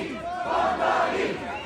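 A large crowd at Zohran Mamdani's victory party in New York roars and cheers, a dense sustained wall of raucous voices and shouting, loud and close throughout.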